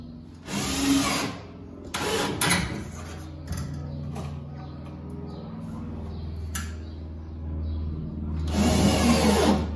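A power drill drives screws into telescopic drawer slides in a woodworking shop, with two loud whirring bursts at the start and end and quieter mechanical handling between them.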